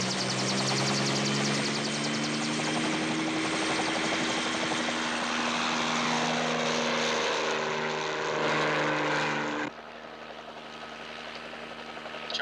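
A helicopter flies with a loud, steady rotor thump and engine whine, the tone shifting slightly as it passes, then cutting abruptly to a quieter, duller engine drone near the end, with no voices.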